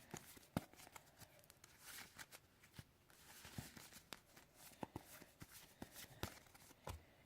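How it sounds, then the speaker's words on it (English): A deck of Yu-Gi-Oh trading cards being shuffled by hand, close and fairly quiet, with a steady run of soft riffling and flicking snaps over about seven seconds. "Shuffle up our deck."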